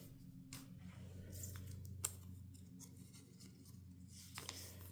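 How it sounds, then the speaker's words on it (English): Scissors carefully cut through packing tape on a parcel of militaria postcards, with soft close snips and rubbing and a sharp click partway through, heard with no voice. "We'll just very carefully cut that tape."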